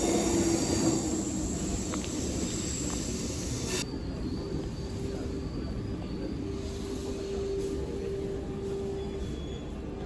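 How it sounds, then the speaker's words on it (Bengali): A train rumbles into a station with a steady low roar and rolling wheel noise, a thin squeal rising partway through, with no voices heard. "ট্রেন চলে এসছে"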